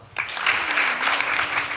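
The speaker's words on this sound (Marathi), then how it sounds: "टाळी वाजवा" Audience at a Marathi devotional kirtan gathering claps hands steadily together, a dense continuous wash of applause that starts abruptly and holds loud throughout, with a faint sustained tone underneath.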